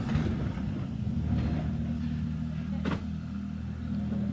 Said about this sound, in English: Cars clunk into gear and those engines fired up for us.